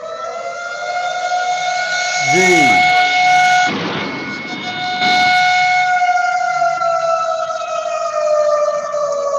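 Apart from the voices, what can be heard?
siren sounding at Bisalpur dam before gate opening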